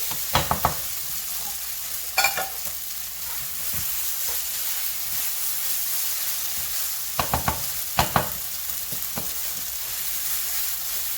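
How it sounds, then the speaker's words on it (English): Noodles for lad na sizzle in a pan over low-medium heat, a steady frying hiss broken by scattered scraping stirs of the spatula, close and fairly quiet. "And you just want it to warm up your noodle enough until it's really soft"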